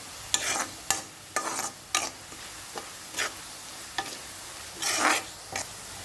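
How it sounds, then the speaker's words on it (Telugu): Chili powder being stirred into a carrot and rice mixture in a pan, giving a series of short scraping stirs with soft sizzling between them, close and alone with no talk. "కారం కూడా వేసి బాగా కలుపుకుందాం."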